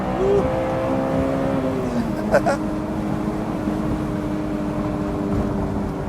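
A sports car engine holds high revs in third gear, a steady, droning tone with a slight pitch shift partway through, heard from inside the cabin.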